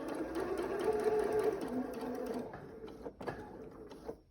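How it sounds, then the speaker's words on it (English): Sewing machine stitching a fabric strap onto a triple-pleated face mask, a close steady whirring run for about two seconds that slows and stops, followed by a few faint handling clicks. "cover it with the top fabric and sew right over it"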